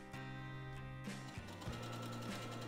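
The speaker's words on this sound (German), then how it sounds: "drehen das Ganze weiter und nähen dann einmal bis zur oberen Kante" Sewing machine stitching a patchwork bag, a close steady mechanical whir that shifts pitch as the speed changes, with brief pauses and restarts.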